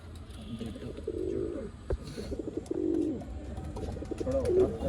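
Pigeons kept for sale in a loft in Bangalore, several soft throaty coos in short rolling phrases at near distance, with faint rustling and other birds in the background and no talking.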